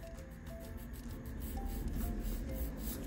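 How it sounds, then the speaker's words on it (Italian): A nail being filed to shape during a refill after five and a half weeks of growth, with rhythmic back-and-forth rasping strokes, close and steady, with no talking. "Inizio a limare la forma, così capisco anche gli spessori che ho."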